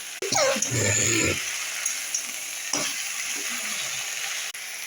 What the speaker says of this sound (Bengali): এর মধ্যে দেখো আমি পাট শাকটা দিয়ে দিলাম, দিয়ে এবার একটু খানিকক্ষণ ভেজে নেব